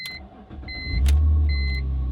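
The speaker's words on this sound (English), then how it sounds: "So now to bleed the system, turn on your car," A BMW E46 car is switched on, with short electronic chimes and beeps before the engine catches and settles into a steady low idle close by.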